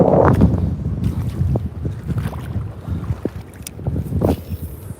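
Strong wind by a river, blustering across the microphone in heavy low rumbling buffets, loud and close throughout with a few faint clicks.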